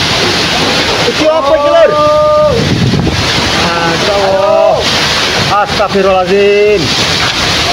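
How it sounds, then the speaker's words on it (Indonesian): Violent windstorm with heavy rain sweeps through Lamongan, a steady roar of wind and downpour filling the scene throughout while alarmed voices speak over it. "Hujan lebat disertai angin kencang melanda Kabupaten Lamongan pada Minggu 10 Desember 2023 sore"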